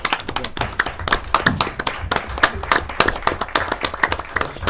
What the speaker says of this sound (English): Another applause would be appropriate, right?